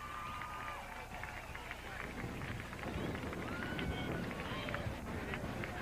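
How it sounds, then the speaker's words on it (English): A speedway crowd at a 1990 late model feature race claps for the winner as he climbs out of his car: continuous crackling applause mixed with crowd hubbub, fairly loud and sustained. "A big round of applause for Dave Heitzel"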